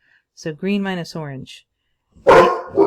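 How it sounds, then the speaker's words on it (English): A dog barks twice near the end, one loud sharp bark followed by a shorter, softer one, right after a person finishes speaking. "Sorry about my dog."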